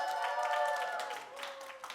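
At a talk show, an audience applauds as a singer is introduced. Scattered clapping runs beneath sustained tonal music for about two seconds, then tapers slightly toward the end.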